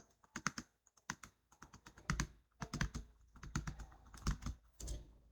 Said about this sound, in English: click on cell H3 and then we will type donation